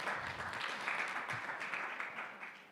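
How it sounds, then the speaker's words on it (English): A panel discussion audience gives a round of applause for a speaker, a steady wash of clapping from many hands in a hall, fairly loud and thinning slightly toward the end. "A big round of applause for you as well."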